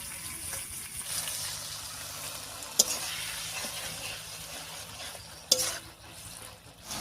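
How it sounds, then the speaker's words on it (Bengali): Chicken curry stirred after garlic and spice-paste water goes in, giving a soft, steady simmering hiss with gentle stirring and two sharp utensil knocks on the pot. "মশলা বাটা জল দিয়ে একটু নাড়িয়ে নিলাম"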